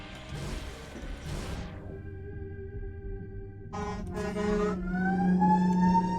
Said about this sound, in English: I think that was a fire truck siren.